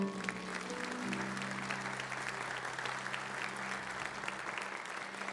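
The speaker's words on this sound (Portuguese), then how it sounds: "Você pode aplaudir o Senhor por isso?" A church congregation applauds the Lord during a service, a continuous, full crackle of clapping from many people throughout, with a faint steady tone underneath.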